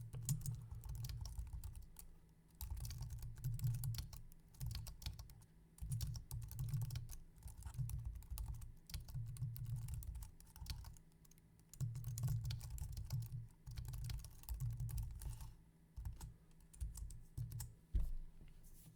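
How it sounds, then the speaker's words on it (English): A sentence being typed on a computer keyboard, soft rapid keystrokes tapping steadily for the whole stretch with brief pauses between bursts, faint and close with no talking. "Type the following sentence, intentionally making the typos as shown."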